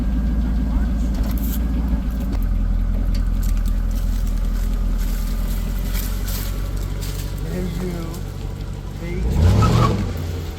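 A 2002 Pontiac Firehawk engine idles after an ignition coil repair, a steady low rumble that swells into a brief rev near the end, with a voice talking over it.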